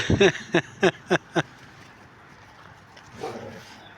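Five quick barks in a row from a nearby dog, then quiet rustling and a soft scuffle as the animals play.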